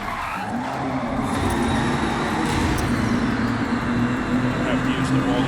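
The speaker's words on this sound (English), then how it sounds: "Drift and power through, beautiful upshift to power out." Car drifting and upshifting in the Forza Horizon 6 racing game, steady engine roar with tyre skid noise continuing throughout, under a voice talking.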